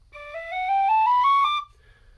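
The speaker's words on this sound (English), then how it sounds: "You have this high whistle that plays the tune, the major scale tune." A high-pitched tin whistle plays an ascending major scale, bright clear notes stepping upward one after another for about a second and a half before stopping.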